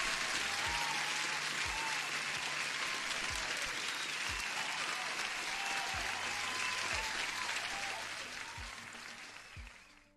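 Canned applause effect played during a futures trading livestream: a continuous crowd of clapping hands at a constant level for several seconds that fades out near the end, with faint low thumps beneath.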